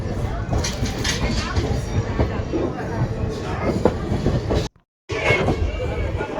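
A passenger train on the Bhavnagar Terminus–Veraval route rumbles past at close range, a loud, continuous roar with rattling wheel noise and voices mixed in, broken by a brief dropout near the end.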